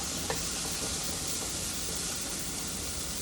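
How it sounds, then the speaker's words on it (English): Vegetables stir-frying in a pan, a steady, fairly faint sizzle with a few soft scrapes, alone without talk. "I just wanted to stir fry that"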